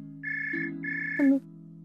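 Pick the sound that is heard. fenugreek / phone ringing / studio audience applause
phone ringing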